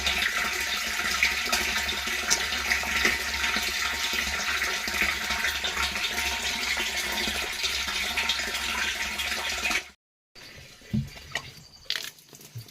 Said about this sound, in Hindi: ये आ गया पानी, ठीक ठाक आ गया पानी को, बढ़िया पानी आ गया।